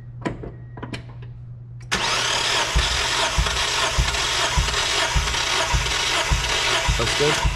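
A Mazda Miata NB engine cranks over with the throttle held wide open during a compression test. After a few faint knocks, the starter kicks in and gives a loud, steady churning with a regular pulsing beat that runs to the end.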